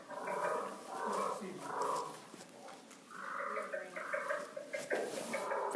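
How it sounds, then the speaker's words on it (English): A Rio Grande leopard frog's growling call, a low, rasping croak repeated in several drawn-out pulses over a few seconds, fairly close and steady, with no one talking over it. "Growls. Listen for the growl. That's the Rio Grande leopard frog."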